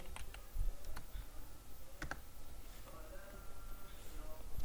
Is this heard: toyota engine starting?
no